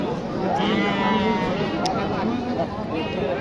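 Goats bleating at a crowded Qurbani livestock market, several wavering bleats rising over busy crowd murmur and someone talking nearby.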